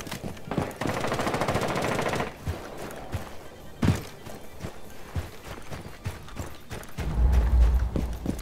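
Video game gunfire during a Rainbow Six Siege match: a sustained rapid automatic burst up front, then scattered single shots and impacts, with a heavy rumbling burst near the end.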